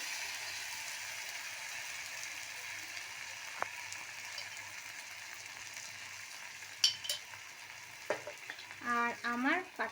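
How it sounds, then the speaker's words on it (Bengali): Gobi manchurian fries with soy sauce and tomato sauce in a pan, a continuous close sizzle with occasional stirring clinks and scrapes, and brief talk near the end. "এবার এটা খুব ভালো করে ফ্রাই করব"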